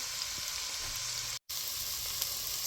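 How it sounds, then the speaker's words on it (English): Onion and celery frying in rendered fat and grease in a cast iron pan for keto chili, giving a steady close sizzle with a brief dropout partway through. "in the renderings and the grease, we're going to add the onion and the celery."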